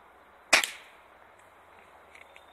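A single cheap pellet gun fires once, a sharp close snap with a short tail, followed by quiet room tone.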